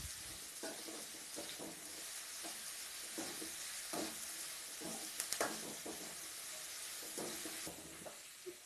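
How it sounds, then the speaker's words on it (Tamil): Sliced onions being sautéed with a little salt in a pan, giving a steady, close sizzle and frying hiss with repeated soft stirring scrapes throughout and no talking. "நல்லா வதக்கி விடணும்."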